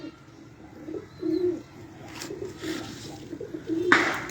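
Pigeons kept as paired breeding birds coo in soft low bursts with a few brief calls and a sharper flutter near the end, fairly close in a quiet yard.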